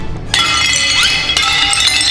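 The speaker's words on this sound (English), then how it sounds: "My plates are smashed." Plates are smashed in a warehouse: sharp ceramic crashes burst close and loud, followed by clinking, tinkling shards that ring out, with a second crash about a second later.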